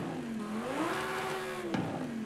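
A 5.2-litre V10 in a Mercedes-AMG GT-R from the racing game Forza Horizon 5 revs steadily, its pitch rising and dipping in a continuous loud engine tone with a brief sharp blip near the end.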